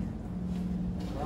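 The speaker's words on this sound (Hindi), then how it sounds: "अभी आप गाड़ी का साउंड सुन सकते हो" Audi Q5 engine idling, a low steady hum with a tonal drone, moderately loud and continuous over a brief stretch.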